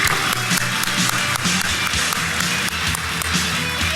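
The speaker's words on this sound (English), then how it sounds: "Let's give him a big round of applause" A conference audience at DEF CON applauds a speaker with a dense, sustained patter of many hands clapping at once, steady and moderately loud, with some faint voices mixed in.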